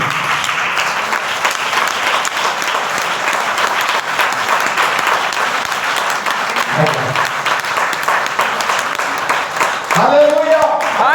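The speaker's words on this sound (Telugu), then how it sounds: "కొంచెం మీకు అర్థమైతే గట్టిగా చప్పట్లు కొట్టి" A church congregation applauds loudly in sustained, dense clapping that fills the room, and a voice cuts in near the end.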